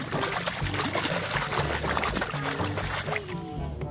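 Muddy plastic Ultraman toy being washed in water, with steady pouring and splashing water running throughout, fairly close, and a voice talking faintly beneath it.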